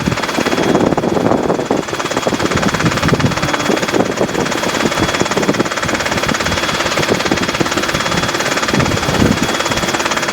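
A Robinson R22 helicopter on a training flight fills the cabin with loud, continuous engine and rotor noise, a dense rapid chopping drone heard from inside, with no talk.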